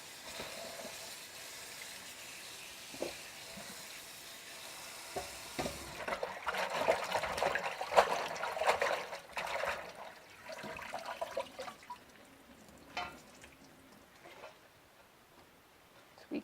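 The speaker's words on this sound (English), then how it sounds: "I will just look to make sure my water is running clean." Tap water runs steadily over beetroot held in a kitchen strainer while it is rinsed of soil, a continuous close splashing hiss that swells louder and rougher midway before settling back.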